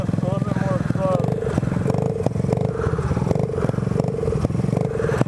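A faulty dirt bike engine runs roughly, idling with an uneven, sputtering chug and clatter. It goes on steadily under outdoor wind noise and a passing voice.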